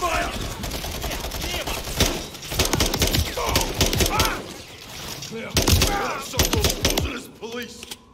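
Rapid gunfire crackles in the Modern Warfare 3 video game, dense bursts of automatic fire and single shots under shouting voices, loud and nearly nonstop throughout.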